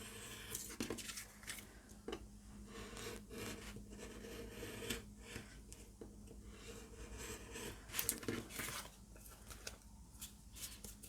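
A blade trims the excess paper from a gel print on a cutting mat, making faint, close scraping and rubbing strokes in short irregular bursts over a quiet background.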